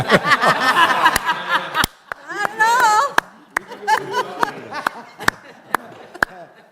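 Several people clap by hand at a meeting table during a historic preservation commission meeting, sharp irregular claps scattered among chuckles and voices talking and laughing nearby.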